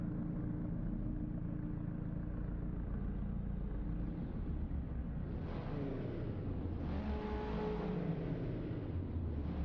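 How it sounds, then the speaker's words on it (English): Race car engines on the grid at Brands Hatch Indy in a sim racing game drone steadily, then revs climb in a few rising surges, moderately loud and continuous. "Hear the revs rising in the background"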